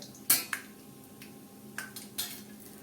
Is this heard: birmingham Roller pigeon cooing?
no